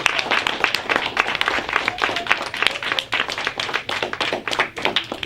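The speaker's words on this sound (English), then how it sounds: "give them a round of applause" An audience claps for the opposing side of a school debate, a dense, steady patter of many hands that carries on for several seconds, with no talk over it.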